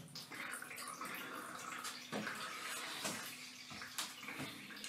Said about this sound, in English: I will grab the paper at one corner and then pull it up. So most of the chemicals can drip from the paper.